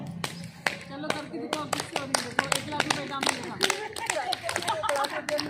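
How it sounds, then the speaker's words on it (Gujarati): Hands clap in a brisk, regular rhythm, many sharp close claps in a row as part of a clapping health exercise, with a voice talking over them. "તાળીનો અવાજ જોજો."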